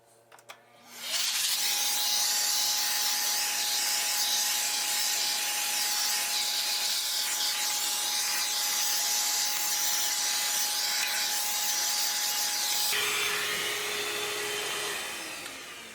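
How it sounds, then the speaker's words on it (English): Vacuum cleaner with a crevice tool cleaning the front plate of a fridge starts up and then runs as a loud, steady airy roar with a whine, changes pitch once near the end and winds down. "start with the crevice tool, and then once you got most of the dust and lint removed, go ahead and switch out for the duster brush"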